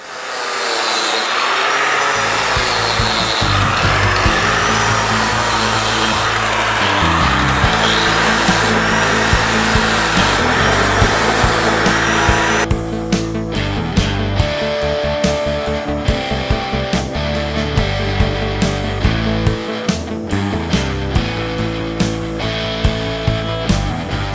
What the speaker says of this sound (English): you can see everywhere where I need to grind now